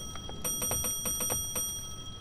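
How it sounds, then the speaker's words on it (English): A bell in the Roblox horror game Doors rings in a quick series of bright, clear strikes, fairly close and alone, with a few more spaced out toward the end. "who keep ringing that bell?"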